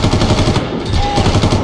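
Rapid automatic gunfire rattles in the jungle shooter Far Cry, a steady, loud, close burst of closely spaced shots running the whole moment.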